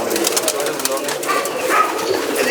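Pigeons cooing and fluttering in a backyard loft in a village home, soft repeated coos close by with a person talking over them.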